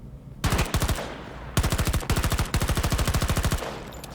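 Machine gun fire in Battlefield 2042, three loud close bursts of rapid rhythmic shots separated by short pauses, with no one speaking.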